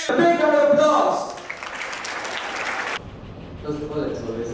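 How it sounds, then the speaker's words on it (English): Audience applause for chess player Gukesh at Velammal school, a broad crowd clapping that fades after about a second and a half, with a voice talking over the start and a speaker's voice resuming near the end. "Let's give him a big round of applause."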